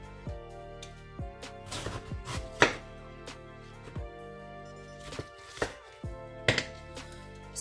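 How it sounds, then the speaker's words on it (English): A knife cuts cabbage into quarters on a board, a series of crisp, separate chops and crunches spaced irregularly, close and clear with no talk. "I just cut my cabbage in like a quarter"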